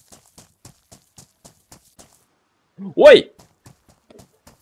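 Rapid, regular hoofbeats of a horse in the video game DayZ clip-clopping at a gallop, briefly interrupted by a sharp spoken exclamation, then resuming.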